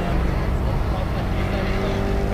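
A race car roars past trackside at a club circuit during a 2KCUP round, a loud, steady engine drone that fills the moment without fading much.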